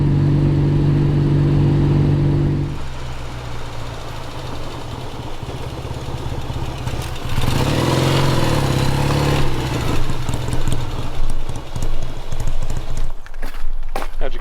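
A 1962 Norton Dominator 88 motorcycle is ridden, its engine a loud low rumble that shifts pitch as the revs change, with wind buffeting over it.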